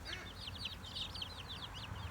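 Chickens on a farm cluck in a quick, repeated series of bright calls, fairly close and continuous over a low background hum.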